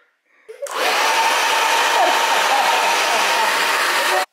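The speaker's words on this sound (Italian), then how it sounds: "Vedi che funziona ancora il phone" Hair dryer loaded with talcum powder switched on after a quiet moment, a loud steady close whooshing blow that runs for several seconds and then cuts off abruptly.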